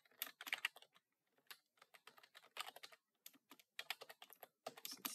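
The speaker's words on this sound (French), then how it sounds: "Je vais taper très intéressante" Rapid keystrokes on a computer keyboard as a short comment is typed into a WordPress comment box, coming in close, crisp bursts with brief pauses between words.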